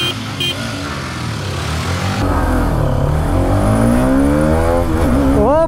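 A Hero Karizma XMR 210 and a Yamaha R15M roar and rev in a drag race, the pitch climbing repeatedly as they accelerate hard through the gears, loud and close.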